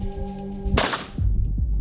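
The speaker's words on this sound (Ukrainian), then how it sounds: "Ми робимо один постріл" A single sharp gunshot fired outdoors on a range during a noise-level test, a loud abrupt crack with a short decaying tail, preceded by a steady electronic tone and followed by a couple of faint thumps.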